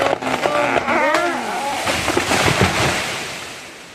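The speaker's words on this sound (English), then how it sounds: "So now again, tree has fallen." A tree being felled crashes down outdoors in the bush, a loud broad rumbling crack and thud that fades out over a few seconds.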